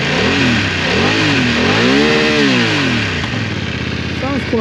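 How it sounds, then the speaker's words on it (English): A BMW F900R motorcycle engine is revved up and back down in smooth sweeps, with a loud, close, throaty growl that rises, peaks and falls over a steady idle. "Okay, I'll just give it a little bit of a rev."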